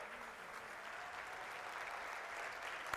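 Steady, even applause from an audience at a banquet following a board of directors' swearing-in ceremony, a dense wash of many hands clapping at once, heard faintly and fairly distant, without any voices.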